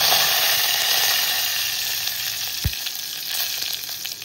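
Curry leaves dropped into hot oil with mustard seeds, cumin and asafoetida for tempering, giving a loud, steady sizzle and crackle close up, with a brief thud partway through.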